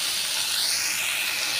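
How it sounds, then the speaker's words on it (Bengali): Brinjal slices frying in a pan give a steady, close broadband sizzle and hiss, constant and fairly loud throughout with no talking. "বেগুন ভাজা"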